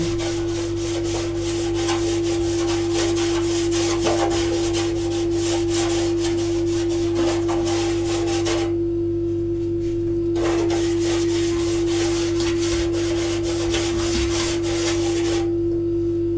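A steel sink is scrubbed with a homemade two-ingredient cleaner, giving a continuous close rubbing and scouring sound that breaks off briefly twice, under a steady low hum and without speech.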